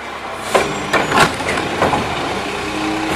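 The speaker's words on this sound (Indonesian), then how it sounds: "Ini adalah truk oleng sampah." A garbage truck in the Jurassic World Evolution video game rumbles along under a hissing noise bed, with several sharp clanks and knocks spaced irregularly over a few seconds.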